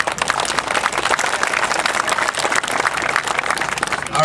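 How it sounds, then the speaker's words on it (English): Steady audience applause at a roadster show horse clinic, a dense continuous clapping from a crowd that holds evenly throughout without any talk over it. "Let's give Dave a nice round of applause."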